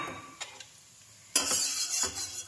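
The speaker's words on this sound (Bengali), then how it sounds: "এটা আমার 2 মিনিটের মতন ফুটবে।" Sugar syrup made with date palm jaggery and two cardamom pods boils in a pot, with a soft, close bubbling sizzle that swells after a quiet stretch, along with a couple of light clinks.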